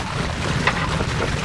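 A gasoline-powered fishing boat engine runs steadily outdoors on the water, a continuous loud low drone mixed with wind buffeting the microphone, with no voices over it.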